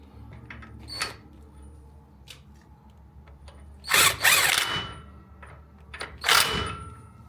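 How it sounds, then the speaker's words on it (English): Ratchet working a wheel rotor bolt on a 28-inch wheel: a few faint clicks early on, then two loud, close bursts of quick ratcheting a couple of seconds apart, with no talk. "back the bolt off of it, and then lock it down"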